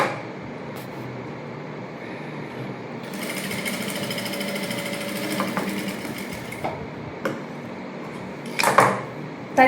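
Sewing machine stitching a princess-cut blouse, running in steady bursts of rapid needle chatter with a short pause between runs and a few handling clicks near the end; no talking.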